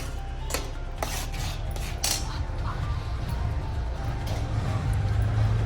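Amla gatte mixture is stirred in a pan over a medium gas flame, with repeated metallic scrapes and clinks of a spoon against the pan over a steady low background, close by.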